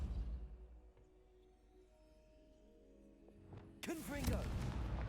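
A Depulso spell cast in a video game, as a sudden loud whooshing burst with a swooping tonal effect near the end, after a quiet low rumble and a faint background hum.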